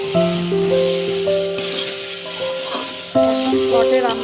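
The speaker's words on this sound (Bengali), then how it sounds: "এবার দিয়ে দেবো পরিমাণ মতো হলুদ। এবার কষিয়ে নেব।" Fish curry masala with salt and turmeric sautéing in a pan, a dish of chaya fish with eggplant and tomato: a steady close sizzle with stirring, under tonal background music throughout.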